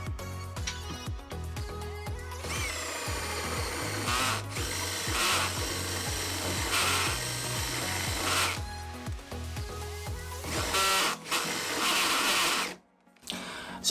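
Hikoki DV 18DBFL2 cordless combi drill driving a large Forstner bit into a 2x4: a loud motor whine with rapid, evenly spaced ratcheting clicks as the clutch slips, pausing briefly before stopping.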